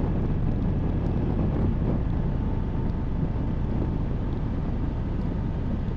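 Wind rush inside a closed-visor helmet on a Yamaha MT10 motorcycle at about 55 mph, a dense steady roar filling the whole stretch with no voices.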